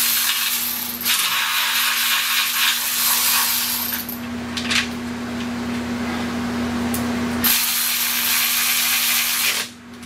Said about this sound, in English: Let me get this one bolt back out.